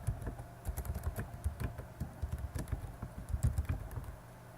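Fingers type a query on a computer keyboard, a quick irregular patter of distinct key clicks heard close up and alone, with short pauses between bursts.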